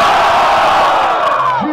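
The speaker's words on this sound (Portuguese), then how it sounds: "Barulho para JP!" A loud crowd at a rap battle roars and cheers continuously, voices blending into a dense wall of shouting.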